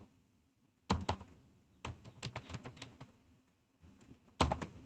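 Bursts of rapid keystrokes clatter on a computer keyboard while code is written, close and crisp, separated by short pauses with a final quick flurry.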